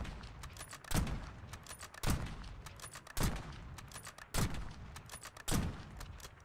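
Five evenly spaced gunshots from a weapon in Black Ops 6, each a sharp loud crack with a short tail, about one second apart, with steady game ambience between them and no talk.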